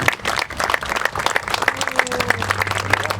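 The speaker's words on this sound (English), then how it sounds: "They owe a big round of applause." Steady applause from a crowd at a park groundbreaking ceremony, many hands clapping densely and continuously at a fairly loud level, with a low hum underneath.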